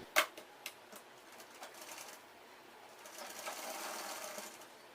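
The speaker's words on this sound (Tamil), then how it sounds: "அதை வந்து ரைட் சைடில் வச்சு அப்படியே ஒரு தையல் போட்டு எடுத்துக்கலாம்" A sewing machine stitches a girl's kurti, running in a steady fast whirring hum that builds after a couple of sharp clicks at the start, close and fairly quiet with no speech.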